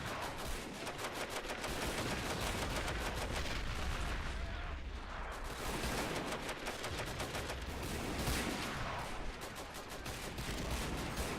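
Sustained machine gun fire in a WW1 trench-warfare game on the Western Front, dense rapid bursts running loud and continuous with heavy booming battle noise underneath throughout.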